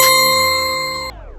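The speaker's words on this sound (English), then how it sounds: "D for doorbell." A doorbell gives a single bright, ringing chime that starts loud and fades out over about a second.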